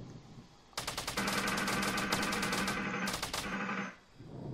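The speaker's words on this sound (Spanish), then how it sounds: "¿Quién está disparando que no veo?" Rapid automatic gunfire in a Fortnite Battle Royale match, loud sustained bursts of closely spaced shots with a brief pause near the end, heard alone without talk.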